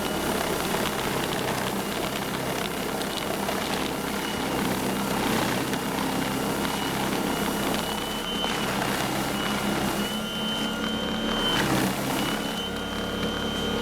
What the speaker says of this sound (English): I'm really happy with the job this blower is doing in this heavy wet snow